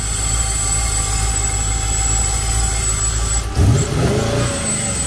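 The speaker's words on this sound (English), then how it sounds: "Yeah, she sound good. LS swap Ranger." A Ford Ranger pickup with an LS V8 engine swap idles steadily with a deep rumble, then gives a brief rev near the end before settling back, heard up close with no talk.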